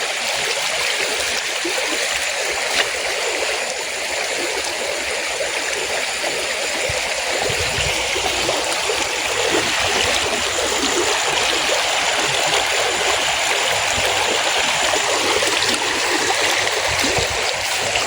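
A flowing stream rushes and gurgles steadily, loud and close, a continuous watery hiss with no talking heard over it.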